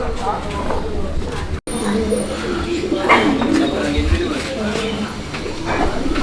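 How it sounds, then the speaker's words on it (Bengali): Pigeons cooing in a fancier's loft holding rare breeds such as German Beauty, soft repeated coos and bird calls under steady background chatter and noise, with people talking throughout. "এই কবুতরগুলো কিন্তু খুবই রেয়ার কালেকশন"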